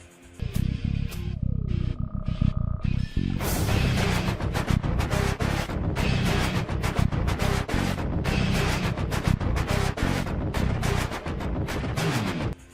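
Loud, dense rock music from a video game soundtrack, with heavy drums and distorted layers kicks in after a brief sparse electronic intro and pounds on continuously.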